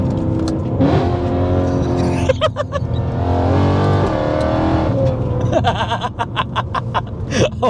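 A BMW E92 M3 fitted with a loud custom exhaust revs hard and close, its engine roaring steadily and then rising in sharp, repeated blips and crackles toward the end.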